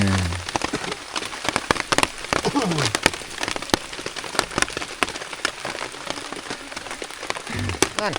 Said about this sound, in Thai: ฝนตกห่ำแต่เช้า